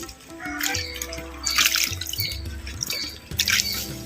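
Water splashes and drips over a stone grinding slab as it is rinsed in a kitchen, with intermittent trickling and bursts of louder splashing close by.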